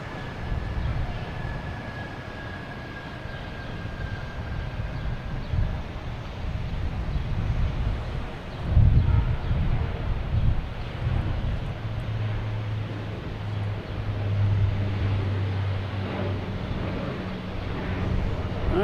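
A Porter airliner departs Boston Logan for Toronto, its broad engine roar rumbling steadily throughout with a faint whine early on, heard at a distance with no one talking.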